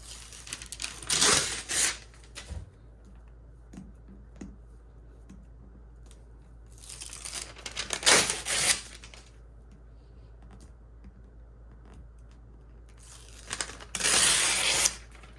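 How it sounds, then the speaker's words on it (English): Paper backing being peeled off embroidery stabilizer that is hooped tight, shiny side up, after scoring with a pin. Three separate close ripping bursts come through, each lasting a second or two, with quiet stretches in between and no talking. "To peel the paper away."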